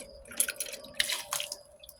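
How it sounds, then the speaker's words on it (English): Water splashes and drips while culvert dirt is rinsed out to look for gold. The splashes come in short, wet bursts close by, with a faint steady hum underneath. "I'm going to rinse it out really good."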